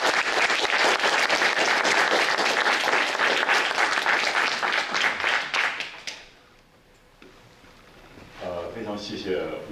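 Steady, dense audience applause welcomes a professor to the stage for his lecture. It fills the room for about six seconds, then quickly dies away to near silence before a voice starts speaking.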